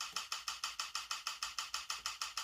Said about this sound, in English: Assign one of the camera samples to all 16th notes